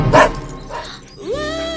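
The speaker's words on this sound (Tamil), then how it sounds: "நாய் குறைக்கிற சத்தம் கேக்குதுடா." A dog barks loudly up close in a comedy scene, a couple of sharp barks followed by a rising whine, alone without talk.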